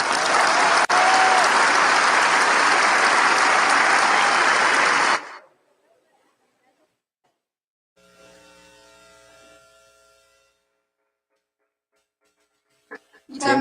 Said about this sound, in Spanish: recibamos con un aplauso a Laura Esquivel